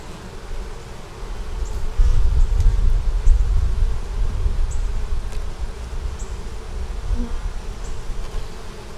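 Honeybees swarm close around an opened hive that had previously swarmed, their loud, continuous low buzz swelling and easing as they fly near, with no voices.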